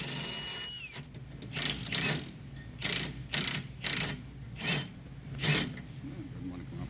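A hand ratchet works on a sway bar link on a Honda Pilot, giving several close bursts of quick clicking separated by short pauses, fairly quiet.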